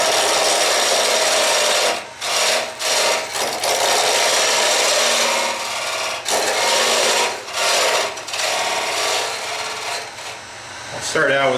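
A wooden chair part being turned on a lathe, giving a loud, continuous scraping rasp of tool against spinning wood, broken by several brief pauses as the cutter is lifted away.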